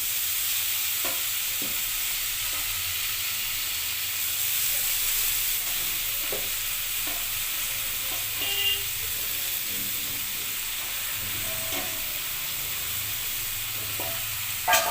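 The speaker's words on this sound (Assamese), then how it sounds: "শাকটো দি অলপমান এনেকৈ লৰাই লৈ অলপমান ঢাকনখন এনেকৈ লগাই ৰাখি থওঁ।" Mosondori greens fry with a little turmeric in a pan, giving a steady hiss and sizzle while a spatula stirs them with occasional scrapes and clinks, and a faint horn sounds in the distance.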